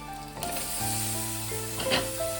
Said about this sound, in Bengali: লতিটা দিয়ে আমি একটু ভালো করে এইভাবে নাড়িয়ে নেব।